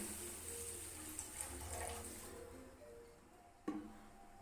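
Water pours steadily into a pan in which semolina (rava) was just roasted, a continuous splashing stream for about three seconds, then quieter, ending with a single sharp clank.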